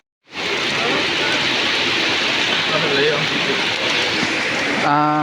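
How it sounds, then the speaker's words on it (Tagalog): Steady rain pours down at night at a high school in Bukidnon, a dense continuous hiss that starts abruptly and holds evenly throughout, with a faint tonal sound creeping in at the very end. "Guys, nag-ulan guys."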